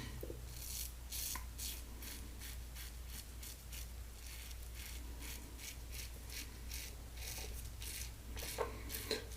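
Mongoose safety razor scraping across stubble during a shave, a faint, steady series of rhythmic rasping strokes, close and quiet.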